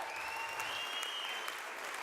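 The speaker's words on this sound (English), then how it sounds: "Would you please give another round of applause for the acts that you've seen tonight?" A comedy show audience claps in a steady wash of applause lasting about two seconds, heard fairly distantly with a faint voice beneath.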